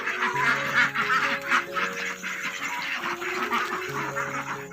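Many laying ducks quack loudly and continuously at close range, overlapping calls forming a dense, busy chorus with no pauses.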